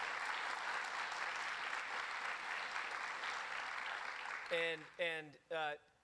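Applause for the governor at a public announcement event, a broad crowd clapping steadily at moderate volume, then tapering as a voice begins speaking near the end.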